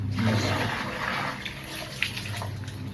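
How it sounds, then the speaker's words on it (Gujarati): Water fills an ice tray, a close rushing stream that is strongest at first and then eases into a softer trickle. "હવે આમાં પાછું પાણી બીજું નવું ભરી અને મૂકી દેવાનું છે ફ્રીઝરમાં"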